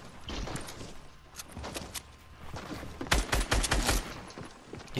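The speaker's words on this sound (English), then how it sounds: "He's still shooting at me." Video game gunfire crackles in scattered bursts and volleys, some distant and some closer, ending in a loud, rapid cluster of shots, with faint footsteps and movement in between.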